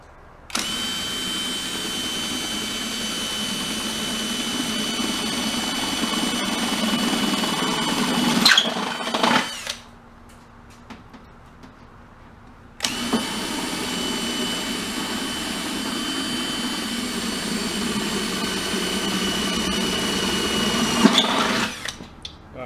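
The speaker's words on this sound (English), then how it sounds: "Now I'm going to use a 3/8" drill bit." A power drill with a 3/8-inch bit whines steadily for several seconds, stops briefly, then runs again in a second long burst, loud and close.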